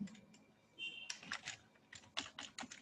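Typing on a computer keyboard while entering addresses, bursts of quick key clicks with short pauses between them, close and fairly quiet.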